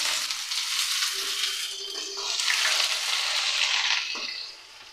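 Sliced onions hit hot oil in a pan already holding bay leaf and cumin, cooked for an egg, cauliflower and potato kofta curry; a loud, steady broadband sizzle swells a couple of seconds in and holds before easing off.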